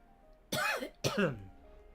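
Two quick, fairly close coughs in a row, separated by a brief pause, rough and throaty against a quiet background.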